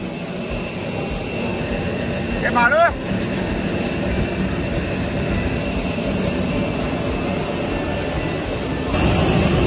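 Airplane engines hum and whine steadily at an airport apron beside a parked plane, a continuous drone with a brief rising tonal sweep partway through and background voices underneath.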